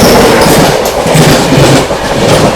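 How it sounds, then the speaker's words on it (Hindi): The 12559 Banaras–New Delhi Shiv Ganga Express rushes past at full speed, a loud, dense roar of wheels and carriages with rapid clattering throughout. "सामने से आती हुई 12559 बनारस नई दिल्ली शिव गंगा एक्सप्रेस आती हुई दोस्तों पूरी रफ्तार में"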